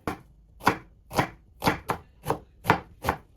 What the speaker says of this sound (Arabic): هون لازم نقطع البصل